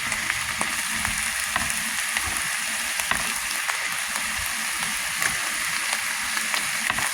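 Cheesesteak meat and vegetables fry in a hot pan, giving a steady, close, loud sizzle with crackling pops throughout and no voices.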